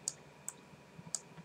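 Three crisp, faint computer mouse clicks, sharp and isolated, spaced irregularly over a quiet room background.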